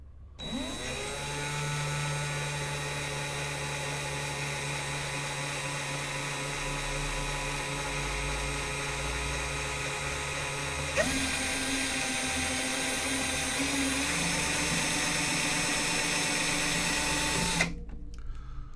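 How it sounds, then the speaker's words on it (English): An electric drill twisting four strands of 28 gauge coil wire whirs continuously at close range, shifting to a higher, strained pitch partway through before the wire snaps near the end. "Now we don't need the drill anymore."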